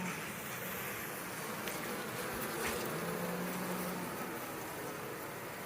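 A steady, dense buzzing of many bees at a Mini-Plus nucleus hive fills the whole stretch, close and continuous, with no voices over it.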